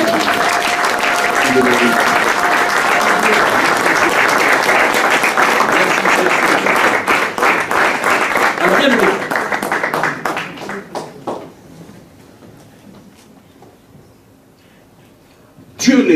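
A church congregation bursts into loud, sustained applause that rolls on for about ten seconds, then fades to a scattered few claps before a voice speaks briefly.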